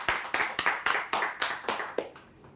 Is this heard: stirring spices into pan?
no